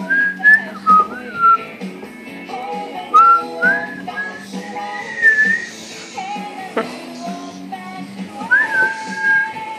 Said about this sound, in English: Whistle with me.